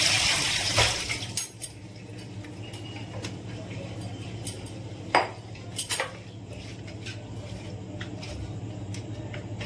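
Soaked potato slices for homemade chips drained through a strainer, with clattering metal and utensil knocks, splashing water and a low steady hum in the kitchen, close and irregular.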